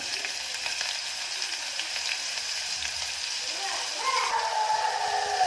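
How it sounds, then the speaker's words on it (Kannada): Finely chopped onions fry in hot tempering oil for a Karnataka-style avarekalu usli, giving a steady crackling sizzle with occasional stirring scrapes near the end. "ವಾಸನೆ ಹೋಗೋವರೆಗೂ ಎಣ್ಣೆಯಲ್ಲಿ ಫ್ರೈ ಮಾಡ್ಕೊಳ್ಳಿ"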